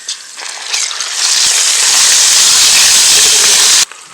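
Ginger garlic paste sizzles loudly in a pan with roasted coconut and onion, a bright steady hiss that swells after the first second, holds strong, then cuts off abruptly near the end.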